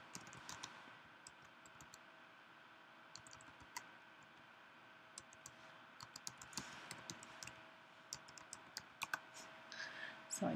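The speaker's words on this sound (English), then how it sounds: "I'll just type one in." Typing a link on a computer keyboard, a steady patter of soft, close key clicks at an uneven rhythm, faint and alone.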